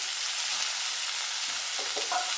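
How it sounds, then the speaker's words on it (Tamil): Washed chicken pieces going into a hot kadai for restaurant-style kadai chicken, giving a steady close sizzle and frying hiss with a few stirring scrapes near the end. "நம்ம கழுவி கிளீன் வச்சுருக்கிற சிக்கனை போட்டுக்கலாம்"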